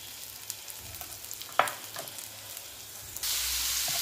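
Chopped tomatoes frying in a pan with green chillies, garlic and onion for an Andhra chutney, a steady soft sizzle with a few scraping clicks, then a louder hissing burst near the end.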